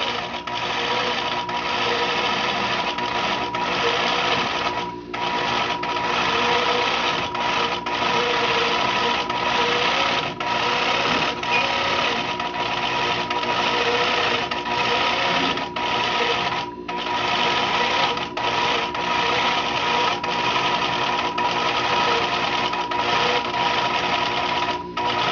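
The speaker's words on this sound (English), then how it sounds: "You can hear the machine speeding up and slowing down." Longarm quilting sewing machine in stitch-regulated mode, a steady close mechanical whir with rapid stitching pulses that rises and falls in speed, with brief pauses near five and seventeen seconds.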